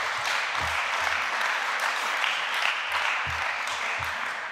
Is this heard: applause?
yes